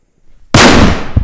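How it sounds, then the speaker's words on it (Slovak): A Tara Bum Bum firecracker goes off in snow, a sudden very loud close bang after near silence, followed by a ringing, decaying tail and a faint secondary thump. "Petarda Bum Bum od Tary."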